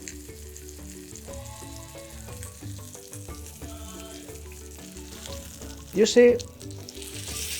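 Lamb shank searing in olive oil in a pot, a steady close sizzle and crackle with clinks of a utensil stirring, a sharper burst of spitting near the end, and a voice speaking briefly.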